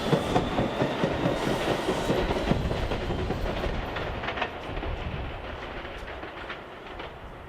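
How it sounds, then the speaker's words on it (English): Boston Blue Line subway train rolling through Suffolk Downs station, a steady loud rumble of wheels on rails with rhythmic clickety-clack that gradually eases, no voices. "after a very speedy ride on that Blue Line train"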